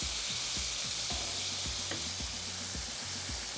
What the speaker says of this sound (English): This is boiling so much.